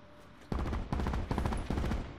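Loud rapid bursts of video game gunfire, several quick volleys of automatic shots crowding a couple of seconds after a quiet opening.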